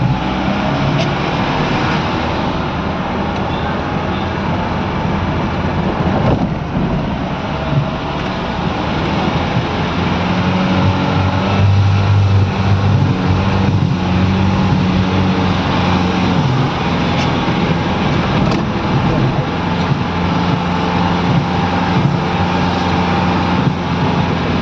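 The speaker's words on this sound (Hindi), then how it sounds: "चेक करना पड़ेगा गाड़ी का साउंड आ रहा है" A car engine hums steadily inside the vehicle on a winding mountain road, with a continuous rumble and road noise and a faint mechanical sound rising midway, and no voices.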